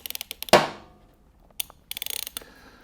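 Motorcycle chain rivet tool being tightened with a wrench: a string of quick ratcheting clicks, one louder metallic clack, then more short rapid clicks, all close and dry.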